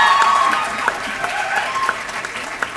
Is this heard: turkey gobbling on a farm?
no